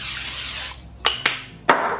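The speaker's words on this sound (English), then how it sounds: "I'm gonna spray it with a little bit of the cooking spray" Cooking spray hissing into a 9x9 inch casserole dish, one long spray followed by three short bursts, close and fairly loud, with no talking.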